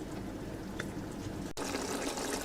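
Water poured into a bowl of mashed chickpeas for a chicken chole curry, a steady close splashing trickle that grows fuller partway through.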